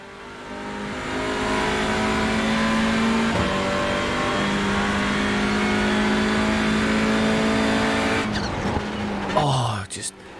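Hyundai Veloster race car in the iRacing sim, engine droning loud and steady through rising and falling gear changes, then a quick downshift with tire squeal near the end.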